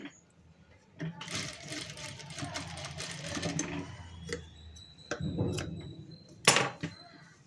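A sewing machine stitches a blouse sleeve in short runs, a close, rapid mechanical whir broken by pauses, a few clicks and handling knocks.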